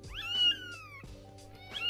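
A kitten lets out two dramatic, drawn-out meows, a long wavering cry first and a second rising one at the end. They sound close and clear over a quiet background hum.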